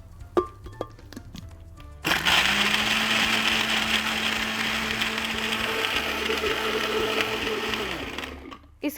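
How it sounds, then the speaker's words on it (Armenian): A hand mixer beats ingredients for a chicken breast roll, starting abruptly after a brief quiet patch with clinks, then running as a loud, steady motor whine for about six seconds before cutting off. "Հիմա սկսում ենք զարնել։"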